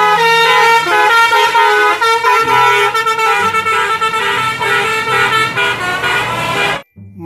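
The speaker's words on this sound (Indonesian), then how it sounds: "Mobil bus telolet, teman-teman." A toy bus's telolet horn plays a loud, sustained multi-tone melodic tooting for about seven seconds, the chord shifting in short bursts before it cuts off abruptly.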